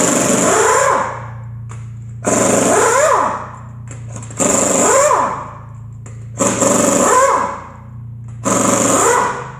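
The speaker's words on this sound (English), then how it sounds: "A little bit of lubricating oil, and let's go ahead and rip this wheel off." Lug nuts are removed from a heavy-duty truck wheel with a power tool, which fires in five loud, close bursts of rattling whir, each about a second long and separated by short pauses.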